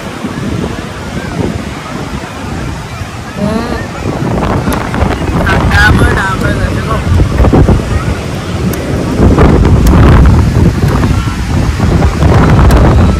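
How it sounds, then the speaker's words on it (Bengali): Surf breaking and wind buffeting the microphone on the beach at Puri, a steady loud wash of waves with rumbling gusts throughout. "পুরীর সমুদ্র বিচ"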